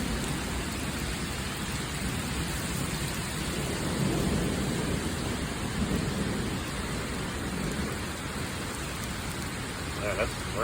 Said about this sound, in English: Yeah, that's rain, boy.